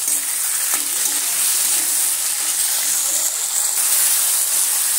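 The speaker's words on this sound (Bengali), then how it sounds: "টমেটোটা সুন্দরভাবে ভেজে নিয়েছি।" Tomatoes with a pinch of salt sizzle in a pan, a steady close hiss of frying running throughout with faint stirring scrapes and no voices.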